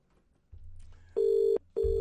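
Telephone ringback tone on an outgoing call, two steady electronic ring bursts, the first long and the second cut off at the end, over a low hum, with no one talking.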